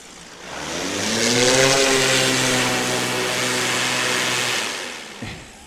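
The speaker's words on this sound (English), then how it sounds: "So a little bit of reverse pitch propeller action there" A Sonic Rebel light aircraft rolls backward on the ground at a STOL competition in Pinedale, Wyoming, with its reverse-pitch propeller droning loudly and steadily for several seconds before winding down.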